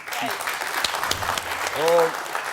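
A studio audience on a comedy game show claps for a prize winner in a brief, bright burst, with a host's voice talking over the applause.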